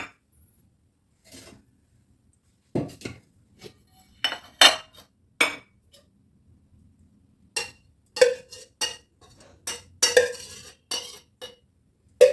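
Metal bowl clinks against a pan as leftover ghee is tipped in while making laddoos, a few sharp taps and scrapes scattered between quiet gaps, close and fairly clear.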